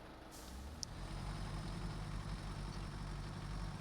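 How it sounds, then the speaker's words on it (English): A truck engine in the Snowrunner video game drones steadily at a low idle-like rumble, with a brief hiss and click near the start. "Oh, I hear a truck."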